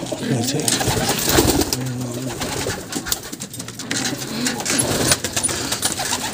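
Pigeons coo in a cardboard box with young chicks close by, giving soft, repeated throaty calls over a constant background of rustling and a nearby voice.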